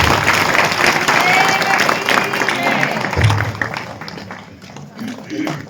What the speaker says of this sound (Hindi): माननीय विधायक जी के लिए जोरदार ताली बजा के अभिनंदन